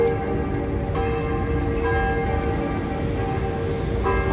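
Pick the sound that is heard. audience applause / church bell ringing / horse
church bell ringing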